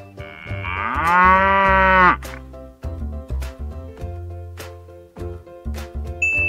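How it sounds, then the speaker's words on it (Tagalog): A carabao (water buffalo) gives one long, loud, drawn-out moo lasting about two seconds. It is followed by quieter voice-like sounds. "Calabau."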